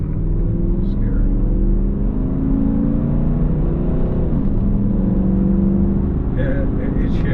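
A tuned car with upgraded struts, intake and tune pulls hard from inside the cabin, its engine droning loud and steady with a firm gear change partway through and a brief voice near the end.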